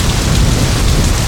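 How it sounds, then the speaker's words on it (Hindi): Heavy rain pours down in a dense, loud, unbroken hiss with a deep rumbling undertone, and no voices. "बारिश जोरों से हो रही है"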